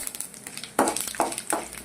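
Cumin seeds drop into hot oil already holding chana dal for a mango-coconut thokku, giving a brief sizzling crackle that swells in short bursts alongside light stirring.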